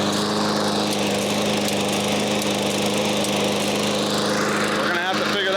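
A troublesome lawn mower engine kept running to burn off, droning steadily and loudly up close with an unbroken buzzing tone throughout.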